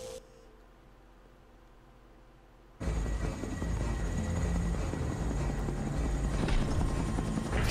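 Helicopter flying in the Xenosaga II video game, a steady loud rotor and engine roar that starts abruptly a few seconds in after a quiet stretch and holds at full level to the end.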